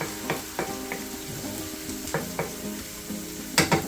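Pork sizzling in a hot pan with garlic and fried shallots, a steady crackling fry broken by a few soft scrapes and a louder clink toward the end.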